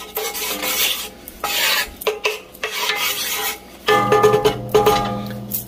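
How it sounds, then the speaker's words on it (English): Butter pushed around a hot pan while making Maine lobster rolls, close rasping scrapes of a utensil against the metal in uneven strokes over a light sizzle, no voices. "We're going to move that grease around the pan."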